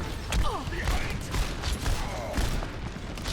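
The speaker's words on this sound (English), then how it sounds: "we got sniped from behind" Sharp gunshot cracks ring out amid dense, busy combat noise in the Overwatch 2016 open beta, a sniper firing during team play, with several quick reports over a constant rumble.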